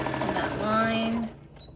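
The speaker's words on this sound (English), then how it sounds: "You're gonna sew right across on that line." Sewing machine stitching straight across the gusset line of a spring tote bag, a steady close motor whir with tonal hum for about a second before stopping.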